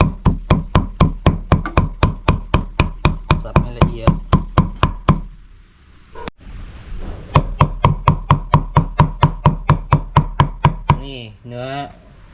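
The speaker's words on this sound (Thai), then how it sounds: "หั่นเป็นแป้นเป็นแป้นแล้วก็สับเลยนะครับ" Rapid, steady knife chopping of raw meat on a board for Thai larb, loud and close, with a brief pause midway before the rhythmic strikes resume.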